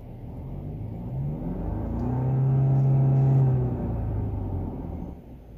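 Mercedes-Benz E300e EQ Power plug-in hybrid from 2020 (W213, AMG Line) with its engine running rough under load while charging the battery: a steady low rumble with a throbbing drone that swells mid-way, then eases, heard alone without talk.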